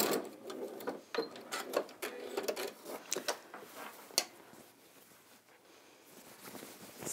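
A sewing machine stitches straight across a panel lining, with a quick run of fast rhythmic needle chatter that slows and fades into quiet room tone, close and fairly soft.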